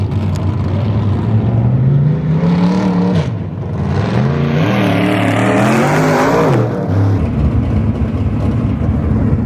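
Race cars roar past at a modified feature race on an oval track, engines loud and close with rising and falling revs as several cars sweep by in succession, a steady wash of motor noise throughout.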